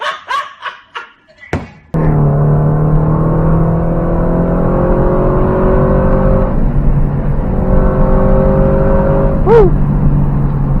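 Subaru BRZ engine revving hard and accelerating on a winding mountain road, a loud sustained harmonic drone rising in pitch from about two seconds on, preceded by brief passenger voices and whoops.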